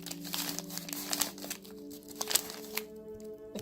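Crinkly plastic and foil wrapping of cold-shipping packaging being handled up close, with irregular rustling and crackling bursts and short tearing-like scrapes over a steady low hum.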